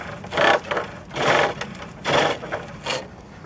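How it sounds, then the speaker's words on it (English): Skew chisel cutting wood on a pole lathe, a large 2-inch smoothing chisel: close, rhythmic bursts of shaving and scraping, about five strokes following the back-and-forth treadle motion. "I've got one of their smoothing chisels, which is a large 2-inch skew type chisel"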